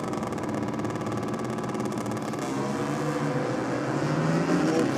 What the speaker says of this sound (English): The Harley Davidson V-Rod up against the Kawasaki ZX12R.